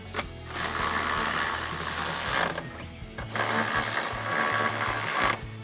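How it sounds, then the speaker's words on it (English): A ratchet with a 13mm socket tightens the bracket bolts of a Barricade TCX HD drop side step bar on a 2024-2025 Toyota Tacoma. It makes loud, rapid clicking in two sustained bursts with brief pauses between them. "grab our ratchet and 13mm socket and tighten that down."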